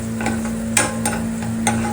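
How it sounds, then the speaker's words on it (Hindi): Chopped onion stirred and frying in a pan for a Pahari saag dish, a steady background sizzle broken by a few soft scraping stirs, close by with no talk. "तो इसको भूनती हूँ थोड़ा, फिर उसके बाद लहसुन डालूंगी।"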